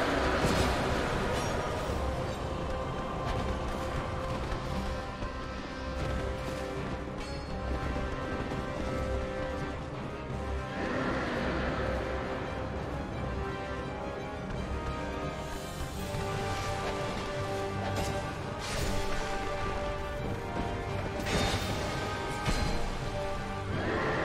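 Horse neighing and whinnying in Dark Souls 2, set against steady rain-like ambience and dense game sound, with calls rising out of the mix at several points across the stretch.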